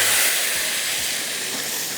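Hot spiced tempering (tadka) poured into a pot of dal hisses loudly and steadily, a close, broad sizzle that fades slightly over two seconds.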